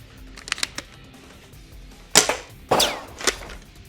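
A NERF WS7 Limited Edition shell-ejecting shotgun blaster is pumped and fired, with a few light plastic clicks followed by two sharp, loud snapping shots and a smaller clack, each crisp and close.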